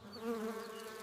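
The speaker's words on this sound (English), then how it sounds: "Mom, a bee." A bee buzzes close by at a picnic in a park, a steady droning hum lasting about a second with no talk.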